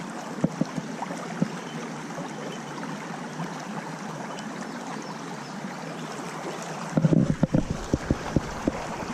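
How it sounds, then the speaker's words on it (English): A small babbling brook flows steadily nearby, a continuous gurgling rush of water with some louder splashy bursts near the end. "Got a nice little babbling brook."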